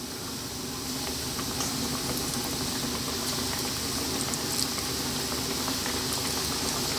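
Fish pieces deep-frying in hot sunflower oil: a dense, steady bubbling sizzle with crackling pops throughout, close and loud, with no voices.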